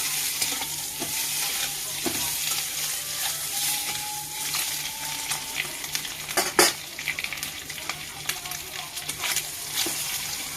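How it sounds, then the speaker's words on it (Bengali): Eggs fry in a kadai beside a cauliflower and egg curry, giving a steady close sizzle with occasional stirring scrapes and light utensil clinks throughout. "এই পাশের কড়াইতে ডিম দিয়ে দিলাম ভাজা"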